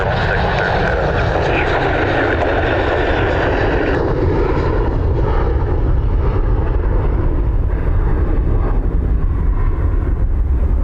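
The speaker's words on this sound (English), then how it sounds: "this Almeria flight is probably going out to collect a load of people coming back" Airliner departing Dublin Airport on a flight to Almeria, a loud broad engine roar heard from outside that holds steady and shifts slightly in tone as it passes.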